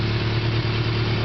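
A rebuilt Yamaha Fazer 700 motorcycle engine of 700 cc runs at a steady idle, a continuous close, loud hum with a firm low throb and no pauses.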